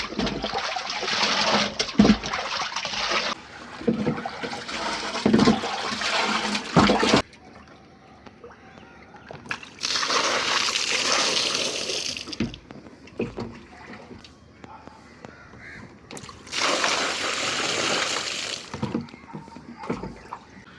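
Water drains out of a household drinking-water tank during cleaning, with rushing, gurgling flows in several loud bursts separated by quieter gaps, fairly close and without talk.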